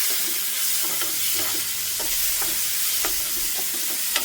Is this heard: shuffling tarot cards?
no